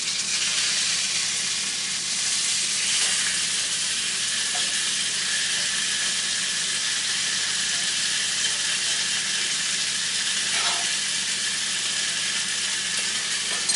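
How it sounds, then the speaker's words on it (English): Sausage fries in a pan with a loud, steady, close sizzle that hisses without a break. A few faint clicks and scrapes from the pan sit under it, and no one speaks. "I'm going to do another little flip. Sausage one more time."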